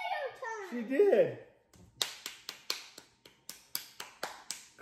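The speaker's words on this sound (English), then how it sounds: "Clap it up for yourself." A short burst of children's voices is followed by a run of about ten sharp hand claps in a loose steady rhythm, close and bright, with a brief hush between the voices and the clapping.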